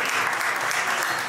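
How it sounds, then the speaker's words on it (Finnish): A festival crowd at an Easter event gives big applause for the winner of an egg-opening contest, a continuous wash of clapping that stays loud and even throughout. "isot aplodit Kristiinalle"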